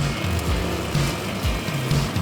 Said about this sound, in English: she fires up the lawnmower